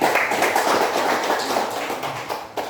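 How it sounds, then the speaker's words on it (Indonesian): Church congregation breaking into sustained applause, a dense, steady wash of many hands clapping together that fades a little toward the end. "Berikan tepuk tangan buat Tuhan Yesus."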